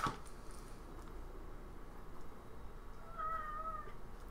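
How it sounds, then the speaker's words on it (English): A cat meows for attention indoors, a couple of short tonal calls near the end over a low steady room hum, fairly close but not loud. "I know, you're a cat."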